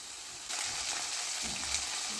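Chopped onion and green chili sizzle in hot oil on a medium flame while poha is being made, a soft hiss that rises suddenly about halfway through the first second and then keeps crackling steadily, with no voices.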